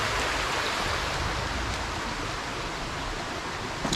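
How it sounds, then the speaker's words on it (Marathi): Water flowing in a stream beside a village path in Ratnagiri, a continuous, fairly loud rushing wash that holds steady from start to finish with no one speaking. "ते पाण्याचा आवाज पण येतो ना"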